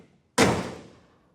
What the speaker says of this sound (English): It still sounds like a box of wrenches being dropped on the floor when I close the door